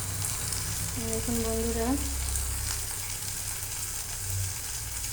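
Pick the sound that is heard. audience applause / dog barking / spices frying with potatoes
spices frying with potatoes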